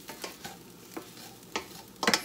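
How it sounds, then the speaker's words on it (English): Plant-based ground meat for tacos being stirred in a pan, a few soft scraping strokes over a faint sizzle, ending in a brief louder scrape. "So I just give it a little stir."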